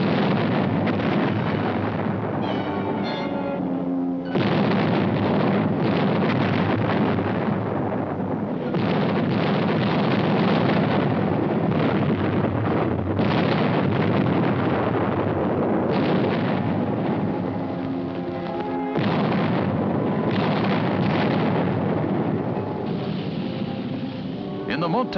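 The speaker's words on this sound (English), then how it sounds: "Our artillery engaged in a duel with enemy guns." Archival footage of a WWII artillery duel during Operation Dragoon carries heavy, continuous booming and rumbling, a dense roar of distant gunfire that surges and breaks into several blasts.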